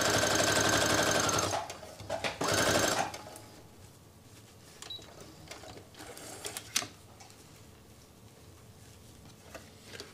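A sewing machine stitches lofty puppet fabric in a loud, close, rapid whirring run for about three seconds, then stops. Faint clicks, handling noises and a few sharp taps follow in a quiet room.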